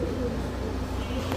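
Domestic pigeons of Gola, Kaldom and Silver breeds give soft, low cooing in a quiet, steady murmur close by.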